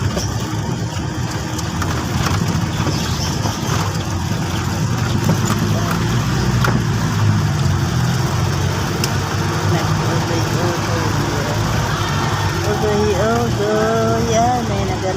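A road vehicle engine idles and rumbles steadily at medium distance, a continuous low drone throughout with other voices talking nearby over it.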